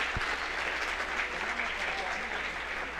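An audience at a pro-life congress applauds married couples, a steady, even patter of many hands clapping at moderate volume.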